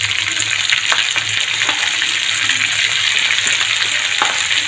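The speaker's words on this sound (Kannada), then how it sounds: "ಮೆಂತ್ಯ ಸೊಪ್ಪು ಕಟ್ ಮಾಡಿದ್ದು ಇದ್ರೊಳಗೆ ಹಾಕ್ಕೊಂಬಿಡೋಣ್ರಿ." Chopped fenugreek leaves drop into hot oil with frying onion, crushed garlic and chillies, setting off a loud, dense, continuous sizzle up close, broken by a few stirring knocks and without any speech.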